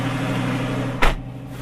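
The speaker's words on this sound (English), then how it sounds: "Let me close the door." A single solid thud of a Lamborghini's door shutting in winter cuts through a steady idling engine hum, after which the engine sounds muffled.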